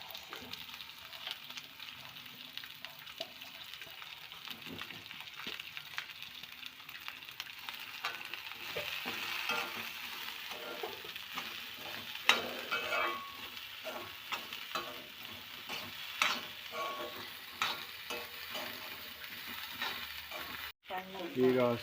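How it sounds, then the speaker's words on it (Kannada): Okra frying and being stirred in a pan gives a steady, moderately loud sizzle with frequent scraping stirs throughout, and no talking. "ಈಗ ಬೆಂಡೆಕಾಯಿ ಹಾಕ್ತಾಯಿದ್ದೀವಿ ಹುರಿಲಿಕ್ಕೆ."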